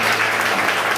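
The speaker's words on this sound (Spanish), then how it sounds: "Vamos a darle un fuerte aplauso para las ofrendas que hemos presentado en este día." Brief, loud burst of congregational applause at a church Mass for the offerings, many hands clapping together in a thick, continuous patter lasting about a second.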